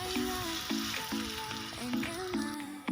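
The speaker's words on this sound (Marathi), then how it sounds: "तेल पण गरम झालेलं आहे, आप्पे पात्र पण गरम झालेलं आहे. आता आपण टाकून घेऊया मिश्रण." Appe batter goes into a hot, oiled appe pan on medium heat and sizzles steadily, with soft repeated crackles close by and a faint tonal hum underneath.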